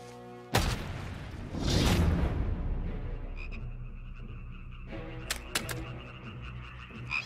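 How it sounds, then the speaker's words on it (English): Frogs croaking in a dramatic film scene about a plague of frogs rising from a river, heard amid a sudden thump, a whooshing swell and sustained orchestral tones, with repeated rasping croaks scattered through the latter half. "And frogs came up out of the river and spread over the land"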